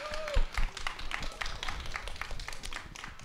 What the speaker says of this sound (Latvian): es aicināšu veltīt aplausu Brītai